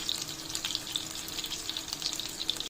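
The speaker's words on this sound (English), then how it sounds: "It has been frying for around 5 minutes." Chicken kebabs fry over a low flame in an Indian-style pan, giving a steady fine sizzle dotted with small crisp pops, moderately quiet and close, with no voices, before it cuts off abruptly.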